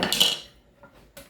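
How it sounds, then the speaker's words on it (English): A portable butane stove is set down with a short metallic clatter at the start, followed by two faint light knocks in a quiet room. "So we'll bring our butane stove, portable butane stove, in front of us"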